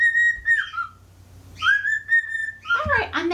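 A pet bird whistles in a 1950 film soundtrack, with clear melodic whistles in two phrases separated by a pause, followed by a busier warbling burst, over a low steady hum.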